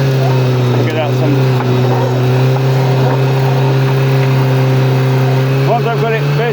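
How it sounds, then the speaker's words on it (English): A Russian 'Terminator' piling machine's engine runs loud and close, holding a steady droning note that lifts slightly as revs rise, with faint mechanical clanks over it. "I'm going to get the revs up a bit"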